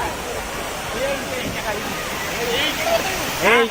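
Water pours and splashes down continuously at a ride in the Imagica water park, a steady rushing wash with children's shouts and chatter scattered over it.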